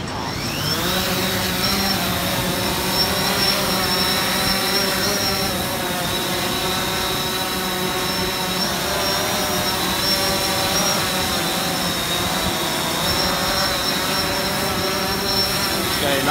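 A DJI Phantom 4 quadcopter flies during a payload lift test, its propellers producing a loud, steady, high-pitched whine and buzz close to the microphone that holds unbroken for about sixteen seconds.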